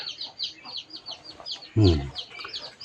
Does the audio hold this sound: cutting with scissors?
no